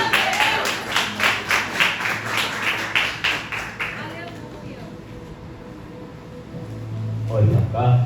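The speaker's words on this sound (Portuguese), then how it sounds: "você se assenta aplaudindo ao Senhor Jesus" A church congregation claps in unison in a steady, rhythmic beat of about two claps per second that is loud at first and dies away after a few seconds, followed by quieter room sound and a voice speaking.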